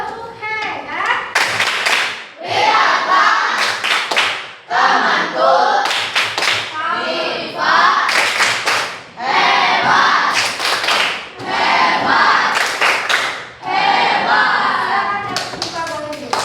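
A sixth-grade class in an Indonesian lesson performs the rhythmic "tepuk hebat" clap, loud bursts of patterned hand claps alternating with children's chanting voices.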